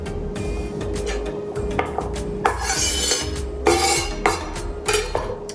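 Carrots being cut into small rounds on a board, heard as repeated close knife taps and chops in an uneven rhythm over a steady background hum.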